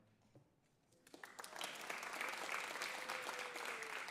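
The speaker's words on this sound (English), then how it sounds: "Dorothy, show them the applause trick that we have there" Studio audience applause during an old-time-radio-style live music show: quiet at first, then clapping swells within a second and holds steady and full to the end, with a few whoops.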